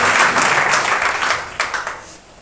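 A church congregation at a Sunday service bursts into loud, sustained applause and clapping that fades out toward the end.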